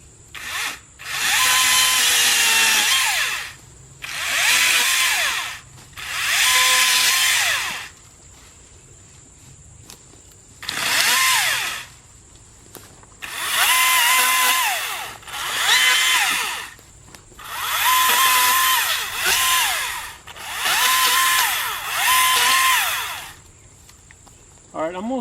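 Husqvarna 530iP4 battery pole saw running at high speed, its loud, close motor whine coming in repeated bursts of a few seconds each, separated by short quiet pauses.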